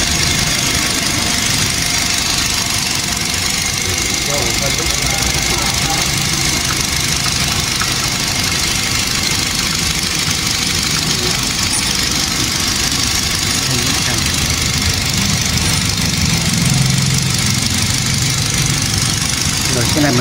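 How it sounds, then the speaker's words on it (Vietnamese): A car engine with VVT-i idles just after starting, running slightly rough. A steady, dense mechanical hum holds for twenty seconds while someone talks over it. "Mới nổ máy nó hơi rung rồi các bạn, chờ nhất nó bơm căng lên thì máy nó sẽ ổn định rồi."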